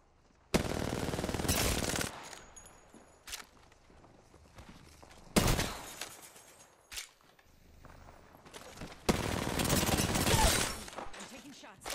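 Automatic weapon fire in a shooter video game, several loud bursts of rapid gunfire separated by quieter stretches with footsteps and game sounds, a player's voice talking in between.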